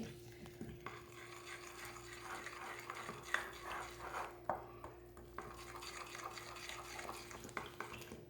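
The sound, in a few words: stirring fish tempura batter with chilled water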